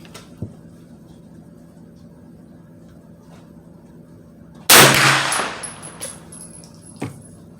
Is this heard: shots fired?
yes